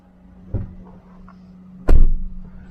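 A Honda Amaze diesel car door shuts firmly with a solid thud, preceded by a softer handle or latch click, heard close up inside the cabin over a low steady hum.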